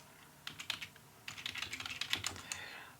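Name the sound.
typing C++ code on a computer keyboard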